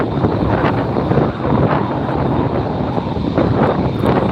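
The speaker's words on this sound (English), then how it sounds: "Starlux Flight 6 and Airbus 350-900." Starlux Airbus A350-900 jet arriving at LAX, a loud, steady broadband engine roar that holds throughout with wind buffeting the microphone.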